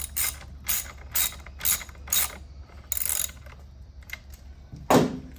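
A wrench ratchets on a motorcycle's primary chain adjustment nut in a series of quick, close, crisp clicking bursts with short pauses, ending in a louder metallic clack over a steady low hum.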